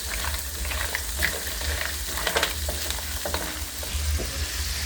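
Mussels sizzling in a frying pan for a seafood paella, a continuous close, bubbling fry with occasional scrapes and clicks of stirring throughout.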